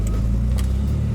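A Lamborghini Countach replica's engine idles close by, producing a steady, loud, low rumble with a faint metallic jingle over it.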